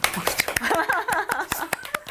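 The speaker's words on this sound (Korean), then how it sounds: "박수 한번 치고" A small group claps briefly on a Korean health TV show, a quick burst of sharp, scattered hand claps about two seconds long, mixed with talking voices.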